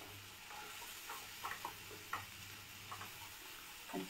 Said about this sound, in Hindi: अच्छे से अब इसको अच्छे से भूनना, आप जितना अच्छे से भूनोगे उतना ही टेस्ट आएगा इसमें अच्छे से।